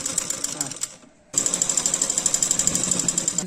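A sewing machine stitches around the neck of a simple kurta, running in a fast steady rhythm of even stitch pulses, pausing briefly, then starting again close and loud.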